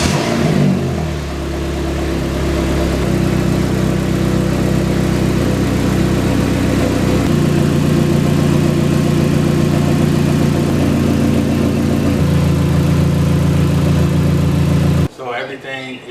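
A car engine idles steadily and loudly at close range after an intake manifold gasket replacement, holding an even hum with small shifts in pitch before cutting off abruptly near the end.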